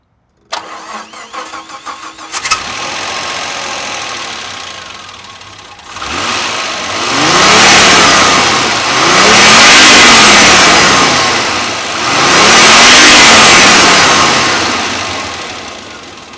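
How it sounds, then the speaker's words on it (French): A Renault 25 V6 Turbo Baccara engine cranks and catches, then revs while driving in three rising, swelling pulls that fade between, loud and close with no talk. "Le V6 est très bien contenu, très feutré."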